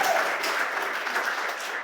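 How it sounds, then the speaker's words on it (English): Audience clapping at a school-funding pitch presentation, a dense, even wash of many hands at moderate loudness, continuing without break and without speech on top. "We can clap for that."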